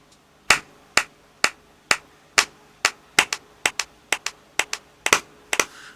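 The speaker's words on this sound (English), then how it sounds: "delay, which is where someone says something or makes a sound like this, and it repeats" A sharp hand clap repeats through a delay effect, regular at first and then thickening into a quicker, denser run of echoes with some strikes fading softer, heard alone with no talk.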